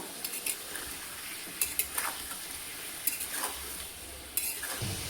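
A spoon stirs chicken and potato curry in a pan, scraping and clinking against the metal in irregular strokes over a soft sizzle; close and moderately quiet, with no voices.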